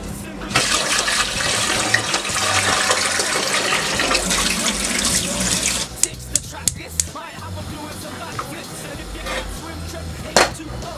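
Tap water runs in a steady gush while basmati rice is rinsed in the kitchen. The flow stops partway through, and scattered clinks and knocks follow.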